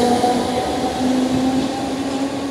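A Class 507 electric multiple unit train hums steadily nearby with a continuous tonal drone and rail noise, no talking.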